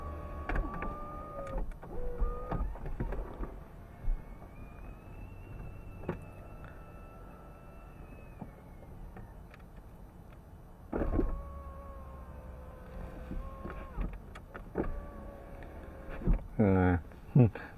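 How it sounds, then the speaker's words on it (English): The convertible roof of a 2025 MG Cyberster All-Wheel Drive closes with a series of electric motor whirs and soft mechanical clunks, separated by pauses, with a rising whine and clicks near the end, close by. "But let's get the roof up now."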